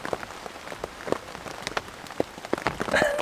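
Rain falls on a tent with soft, scattered patter and sharper drops hitting the fabric close by, building slightly toward the end, with no voices.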